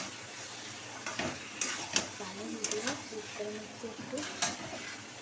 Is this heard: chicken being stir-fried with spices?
yes